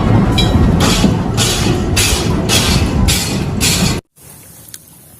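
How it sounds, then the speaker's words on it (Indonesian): Toy train running with a loud rhythmic chugging clatter in regular pulses, then cutting off abruptly to near silence with a faint click afterward. "Wah, kereta api."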